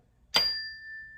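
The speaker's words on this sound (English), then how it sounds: "I'm gonna touch the bell." A small bell is struck once, giving a bright sudden ding that rings on with a clear sustained tone and slowly fades in a quiet room.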